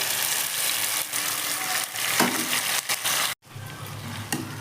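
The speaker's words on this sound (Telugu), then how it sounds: "ఇలా బాగా ఫ్రై అయ్యాక ఇప్పుడు టమాటా మనం ముందుగా తయారు చేసుకున్న టమాటా గుజ్జులు వేసుకోవాలి" Tomato pulp frying in hot oil with onion and curry leaves for a fish curry, a loud, close, continuous sizzle broken by stirring scrapes and a brief drop in sound, with no voices.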